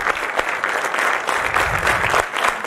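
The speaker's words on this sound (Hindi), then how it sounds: "ज़ोरदार तालियां बजाइए" An audience applauds warmly at the Ashrafia Vision launch ceremony in 2018, with a sustained wash of many hands clapping together at moderate loudness and no voices over it.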